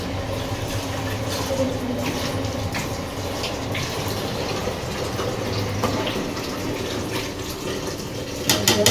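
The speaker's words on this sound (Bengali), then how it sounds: "তুমি হাতটা সাবান দিয়ে ধোও না" Hands washed with soap under a running tap, a steady close rush of water that goes on for nearly nine seconds and swells with brief splashes at the end.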